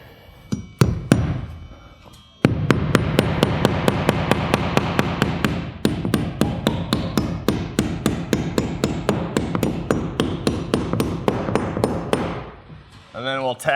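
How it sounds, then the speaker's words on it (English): A hammer drives nails into gable wall framing: two loud strikes, then a long run of rapid, evenly spaced, ringing blows close by. A short pause falls midway before more fast hits and a final ringing tap. "put a nail in the bottom here"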